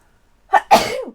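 A single sneeze, close and loud, with a quick in-breath followed by a sharp burst during a board game session.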